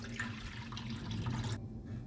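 One liter of water poured into a cooking pot holding coconut milk for ginataang bilo-bilo, a steady splashing, running pour for about a second and a half before it abruptly stops, close and moderately quiet.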